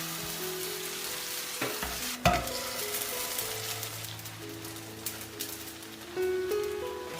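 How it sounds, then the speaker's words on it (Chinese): Scallion pancakes shallow-frying in plenty of oil in a flat pan and being flipped, a steady close sizzle with scraping clatter throughout, over background music and no speech. "煎到底部定型了，给它翻个面。"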